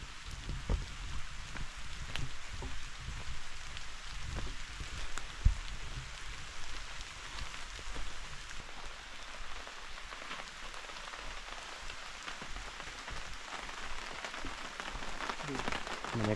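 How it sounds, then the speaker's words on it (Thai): Heavy rain falls steadily at a riverside spot, a dense, even hiss of drops pattering on surfaces that continues without a break, with no voices. "ฝนตกเยอะแล้วโอ้โหดูครับ"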